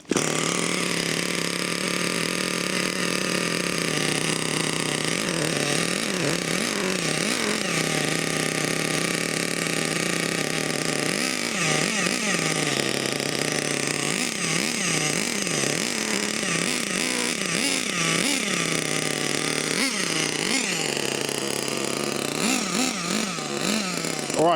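Small nitro engine on an RC truck with a sealed fuel system drones with a high, buzzy whine at idle, then rises in repeated sharp revs that climb and fall back throughout.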